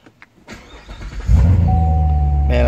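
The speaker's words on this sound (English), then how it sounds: "Push button start." Car engine brought to life with a push button start: a few faint clicks, then the starter whirs and the engine catches with a loud surge before settling into a steady, humming idle.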